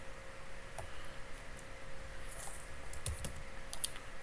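Quiet, close typing on a computer keyboard while JavaScript is entered, a loose run of irregular light key clicks with a few sharper taps, no voices.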